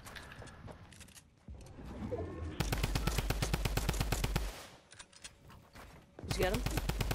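Rapid gunfire from enemies on a hill in a video game, loud bursts of fast repeated shots in several stretches, with single cracks between, under tense talking voices.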